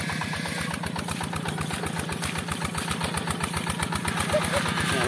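Modified tractor engine plowing sticky clay soil, a loud steady chugging with rapid regular firing pulses close by throughout.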